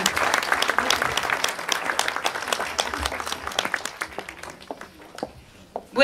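An amateur theatre audience at a small-town evening show in Caiazzo applauds, brisk crowd clapping that thins into scattered claps and fades toward silence, with a couple of sharp final hand claps close by.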